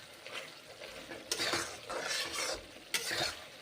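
Ridge gourd and pointed gourd curry cooks in a pan, a loud close sizzle broken by scraping stirs, with sharp bursts of frying noise as the vegetables are turned and no one speaking.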